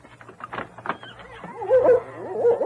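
A husky yips, whines and barks in a radio drama set in the Yukon, the bark notes rising and warbling close up and fairly loud, with a few overlapping dog voices over a low hum.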